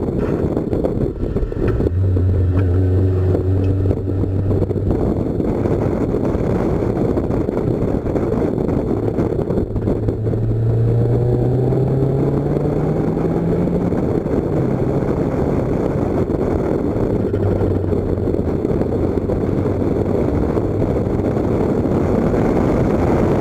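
A car driving on a track is captured from a roll-bar mounted camera with a microphone in the passenger footwell, giving a loud, continuous engine drone with rising and falling pitch sweeps under heavy wind buffeting.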